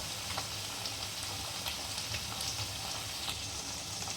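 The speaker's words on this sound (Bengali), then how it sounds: "এরপর আমি সয়া সসটা দিচ্ছি 1 চামচের মতো" Soy sauce hits hot soybean chilli in a pan, giving a steady, close sizzling hiss with faint crackles that lasts the whole time without letup.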